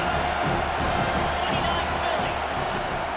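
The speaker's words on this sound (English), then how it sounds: "Decibels rising as the crowd gets behind this defense on 3rd down." Football stadium crowd at an Ohio State vs TCU game cheering on third down, a dense, steady roar of many voices with scattered whoops, loud and sustained throughout without a break.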